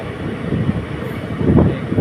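A passenger train rolls into Kayamkulam Junction station in Kerala, India, heard as a loud, close, continuous low rumble of wheels and carriages that swells slightly toward the end.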